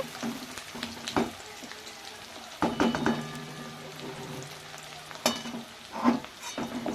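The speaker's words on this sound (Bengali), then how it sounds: "দেখতেই পাচ্ছেন পেঁয়াজটাকে আমি ভেজে নিচ্ছি" Chopped onions frying in a pan with a steady sizzle, broken by a few louder scrapes and stirs of a spatula, close and with no talk.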